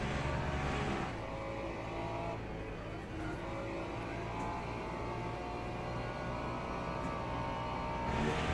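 Race car engines in a racing video game at the Algarve circuit, a Porsche running close behind in the slipstream, a loud sustained engine drone with shifting pitch and a few revs.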